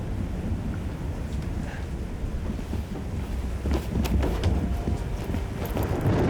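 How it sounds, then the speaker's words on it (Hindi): Heavy rain and stormy wind at sea aboard a ship, a dense continuous roar with low rumbling surges and scattered crackling bursts, no voices. "लगता है ये बारिश और तूफान कभी खत्म नहीं होगा।"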